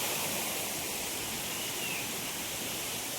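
Water runs out of a village pond as a constant broadband rush, even and unbroken, with no voices.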